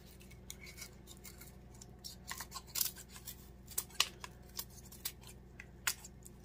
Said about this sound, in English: I run the edge of my scissors along the edge of the shoe and cut that off